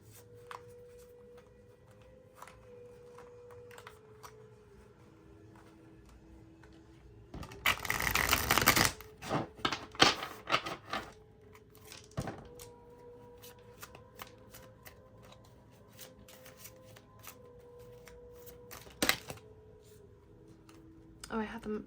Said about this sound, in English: I think it wants us to do a shuffle